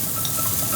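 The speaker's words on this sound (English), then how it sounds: "that sizzle is exactly what we want to hear" Thin smash burger patties sizzle in a hot pan, a close, steady crackling hiss with no voices.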